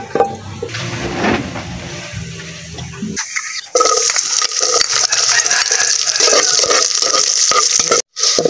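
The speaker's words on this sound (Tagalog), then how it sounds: "Natin lagyan ng tubig para umabsorb po yung lasa." Water is poured into a cooking pot for mung beans. There is a muffled, clattering stretch, then a sudden loud, continuous splashing rush that carries on to the end with a brief gap near the close.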